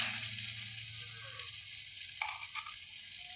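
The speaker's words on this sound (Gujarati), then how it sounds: "હવે આપણે એને બટરમાં વઘારવાની છે" Cut corn kernels sizzling as they are tempered in butter in a pan for makai chevdo, a steady close frying hiss with a couple of brief stirring sounds near the end.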